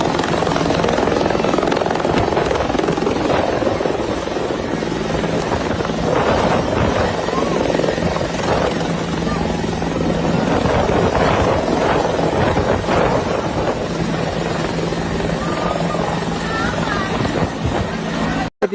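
A helicopter dropping aid flies overhead, its loud steady rotor roar and wind buffeting filling the whole stretch without a break.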